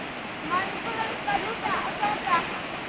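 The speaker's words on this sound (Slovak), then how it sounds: "Až tu voda plava." Floodwater rushes and washes steadily nearby in a flooded riverside area, a continuous broadband roar with small surges, heard without clear talk.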